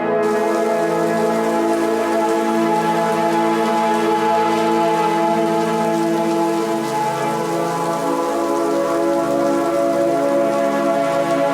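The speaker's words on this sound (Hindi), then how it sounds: "ये बारिश भी सुबह से गिर रही है" Steady rain falls continuously, a dense even patter on surfaces throughout, with no voices.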